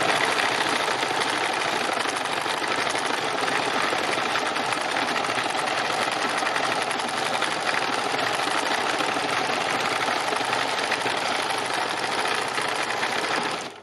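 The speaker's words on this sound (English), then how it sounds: "So I'll do a little bit of free machine embroidery." A sewing machine stitches free machine embroidery, running in one steady, rapid, continuous mechanical whir close up for nearly fourteen seconds before stopping abruptly.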